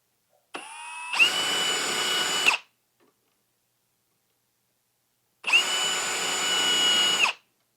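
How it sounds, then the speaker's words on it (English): Two separate bursts of a power drill whirring at high speed, each about two seconds, close by, with silence between them, as a Vix bit drills hinge holes in wood. "So I've added a clamp to reduce any movement of the hinge as I drill the holes."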